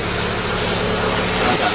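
A grooming trailer's dog blower running as a steady, loud broadband rush of air with a low hum underneath, continuous throughout and alone, with no talk over it.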